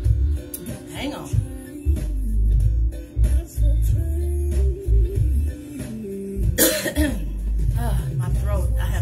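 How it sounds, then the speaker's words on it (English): A person coughs several times in heavy, throaty bursts, close and loud, with some throat clearing between them. "My throat, I have been coughing today."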